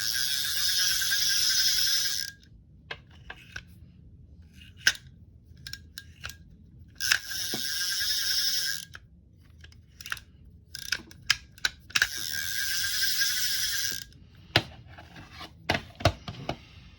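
Tightening a screw on a Daiwa GS 2000 fishing reel: a close, quiet metallic ratcheting, with sharp ticks and clicks coming in irregular bursts between longer stretches of buzzing, rasping whir.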